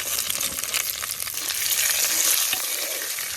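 Shallots frying with ginger, garlic and dried red chillies in a hot pan for a Tamil Nadu-style chicken dish, giving a steady, loud, close sizzle with light stirring scrapes and no talk.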